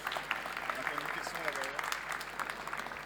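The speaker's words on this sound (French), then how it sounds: "il ne reste plus qu'à vous applaudir." Conference audience applauding after a talk on LLM security, a dense, steady patter of many hands clapping in a hall, with a voice speaking faintly underneath.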